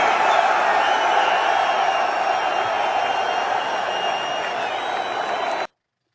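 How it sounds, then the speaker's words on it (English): A large UFC arena crowd in Miami cheers and applauds Donald Trump's entrance. The roar is broad and steady with scattered whoops, holds for several seconds, then cuts off abruptly. "You would think he just won the biggest fight ever by the cheers, the claps, the ovation"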